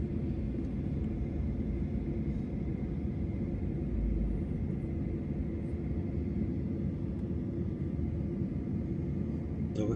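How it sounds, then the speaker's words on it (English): Low, steady engine rumble inside a Qantas airliner taxiing onto runway 27 at Melbourne before takeoff, a constant cabin drone with no talk. "And now we're turning onto runway 27, so it's getting close to takeoff."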